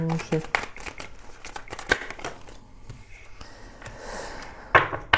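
Tarot cards being shuffled and laid out for a love reading, with a run of quick papery riffles and soft slaps that come close and fairly loud, then fade into a quieter stretch before a few sharp card snaps at the end.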